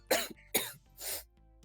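Coughing from a person in a voice chat during a card game tournament stream: three harsh, close bursts in quick succession, the last one breathier and longer, with a faint throat sound trailing after and no talking.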